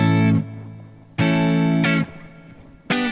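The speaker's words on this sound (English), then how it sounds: "a stereo reverb, beautiful." Guitar chords through the stereo reverb of a Korg AX30G processor: three loud strums, each ringing out and then decaying into a reverberant tail, with no voices.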